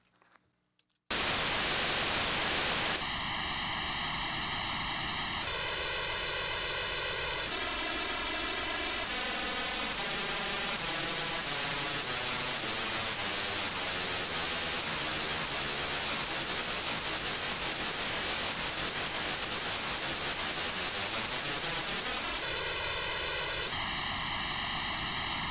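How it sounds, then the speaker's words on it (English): Steady white noise runs through a comb filter from a delayed copy of itself, the hiss taking on sweeping hollow, whistling tones as the delay shifts, with a brief click before it starts. "we get what's called comb filtering occurring"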